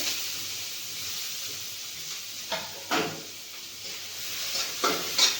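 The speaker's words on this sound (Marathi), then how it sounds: "थोडेसे जिरे कांदा टाकून घ्यायचा आपल्याला ही जास्त परतायचं नाहीये" Cumin seeds and onion sauté gently in a little oil for paratha stuffing, with a soft steady sizzle and several brief scraping stirs of a spoon in the pan.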